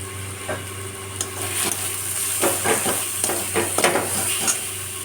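Fried onion with turmeric and Kashmiri chilli powder stirred in a frying pan: a steady sizzle with a run of scraping, clinking spoon strokes in the second half, close and alone.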